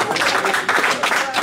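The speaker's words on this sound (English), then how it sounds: "Let's clap for God." A church congregation clapping together in a dense, loud burst of applause during a preaching service, brief and continuous.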